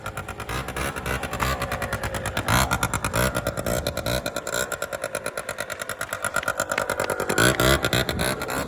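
A modified scooter in a bosozoku-style build rushes past, its engine revving hard in a continuous, pulsing drone that swells and stays loud throughout, close by with no clear talk over it.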